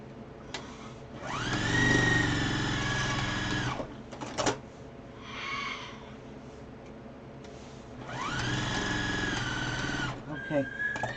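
A sewing machine stitching fabric face masks runs in two loud, sustained whirring bursts, separated by a pause with brief mechanical clicks.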